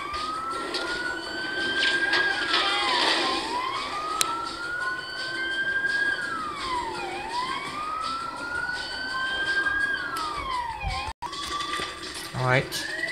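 A police siren wails in GTA V on PS4, rising and falling in long repeated sweeps over game noise, with a brief dropout near the end and a short burst of other sound after it.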